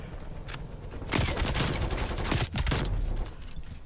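Rapid automatic gunfire in the video game Call of Duty Black Ops Cold War multiplayer, with a few single shots leading into loud sustained bursts of close fire, then a heavy low thump and trailing shots.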